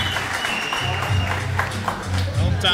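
A fight-league crowd claps and cheers for the winner of a bout, a dense steady wash of applause that lasts throughout, while a commentator speaks over it.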